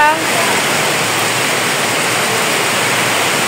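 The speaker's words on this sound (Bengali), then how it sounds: "রিমঝিম রিমঝিম বৃষ্টির শব্দ" Steady, dense rainfall hisses continuously and evenly, close and loud, with no breaks.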